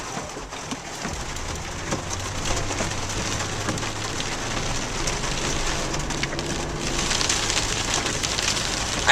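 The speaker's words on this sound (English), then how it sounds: "Watch it, it's hailing." Hail pours down during a hailstorm, a dense, steady pattering rattle that fills the whole stretch and grows slightly louder toward the end.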